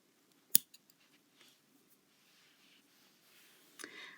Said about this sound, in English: Then just snip those bits off.